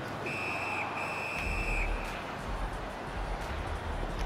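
A referee's whistle from the ice hockey video game NHL 20 shrills in two quick back-to-back blasts, then cuts off, leaving steady arena crowd noise and a low rumble.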